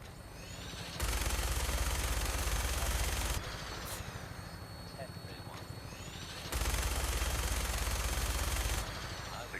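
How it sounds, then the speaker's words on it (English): A minigun fires from an aircraft in Fallout 4 in two long, loud, continuous bursts of rapid fire, separated by a stretch of rotor drone with a voice talking over it. "minigun in front of you is loaded and ready to fire"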